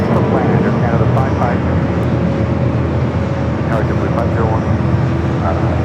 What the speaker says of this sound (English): been wanting to capture this ATR arrival here